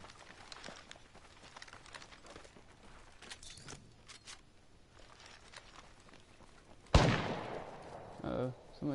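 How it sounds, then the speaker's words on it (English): Gunfire in the video game Apex Legends: a sharp, loud shot cracks out suddenly near the end, followed by a few softer bursts, over quiet in-game ambience and faint footstep-like patter. "I just heard a gunshot behind me."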